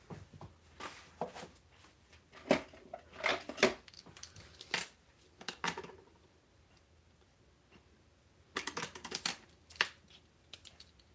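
Scissors snip twine free from a spool at a paper-craft table, giving a few quiet, crisp clicks and cuts in small bursts with pauses between them.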